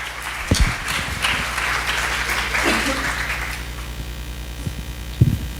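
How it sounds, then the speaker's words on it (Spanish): Steady audience applause in a lecture hall for a volunteer, sustained for several seconds with a faint hum underneath and a few louder knocks. "Por favor, un aplauso a la voluntaria"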